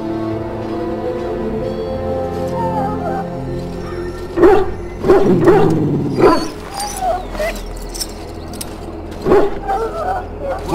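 In Dragon Age: Origins, a sick war hound that swallowed darkspawn blood whimpers steadily, then breaks into several sharp barks and yips, with the game's low ambient background underneath and no talking.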